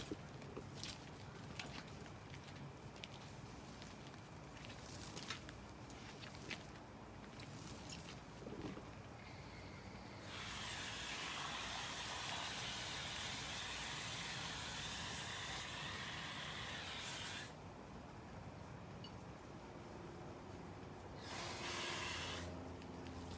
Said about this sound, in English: Okay, I gave that a good wash out.